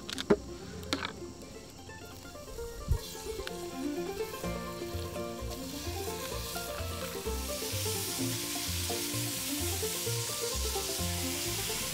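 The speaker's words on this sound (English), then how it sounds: "let's get some beef in the pan." Beef for Texas-style chili sizzles steadily in a GSI aluminum Dutch oven, starting with a few sharp clanks as it goes into the pan, then a strong, constant frying hiss.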